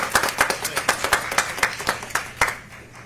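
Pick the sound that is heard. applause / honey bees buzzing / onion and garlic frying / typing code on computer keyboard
applause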